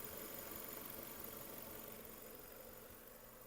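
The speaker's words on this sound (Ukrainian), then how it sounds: "Двигун працює чудово" A Renault Megane car engine idles steadily with a low, even rumble and faint vibration, no voices present.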